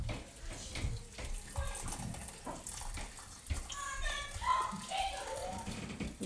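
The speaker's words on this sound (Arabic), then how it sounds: "غادي نديرو عليه الما طايب" Hot water pours steadily from a kettle into a cooking pot of spices for a Moroccan lentil dish, a continuous splashing stream with a voice speaking faintly nearby.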